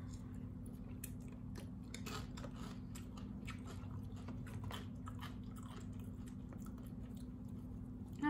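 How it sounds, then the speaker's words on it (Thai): Crispy fried wontons crunch steadily through repeated close bites and chewing, a constant low hum running underneath with no talking. "คิดดูว่ากรอบขนาดไหน"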